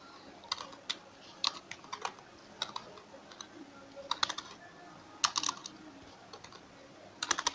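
Typing on a computer keyboard while writing JavaScript code, quick close clicks in irregular bursts and short pauses, fairly quiet against a faint room hiss and no speech.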